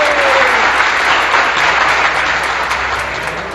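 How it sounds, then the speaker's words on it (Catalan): Loud close applause from people gathered at a bar for a popular breakfast, a dense burst of clapping that fades slightly toward the end, with no talking. "Ara va l'aplaudiment"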